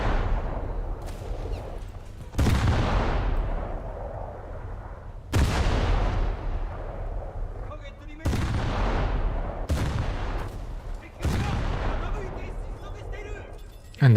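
Warship guns fire in a naval combat video game with low-tier ships. About five heavy booming salvos land a few seconds apart, each followed by a long rumbling decay.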